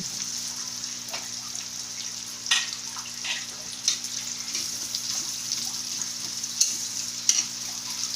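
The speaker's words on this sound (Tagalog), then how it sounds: "igisa lang natin ito hanggang sa lumambot ang ating garlic at ang ating onion" Garlic and onion sautéing together in a pan for a pork chop dish, a steady close sizzle with occasional stirring scrapes and pops, no talking.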